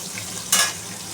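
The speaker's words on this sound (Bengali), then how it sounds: "ক্যাপসিকামটা হালকা করে ভেজে নিই" Potatoes and capsicum fry gently in a pan for a vegetarian soybean curry, a soft steady sizzle broken by one short, loud burst of scraping and crackle midway.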